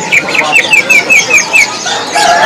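Small songbirds chirp and trill in repeated short phrases at a crowded Indonesian bird market, with voices talking and a busy background murmur around them.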